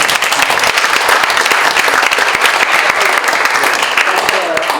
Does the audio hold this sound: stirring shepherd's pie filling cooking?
no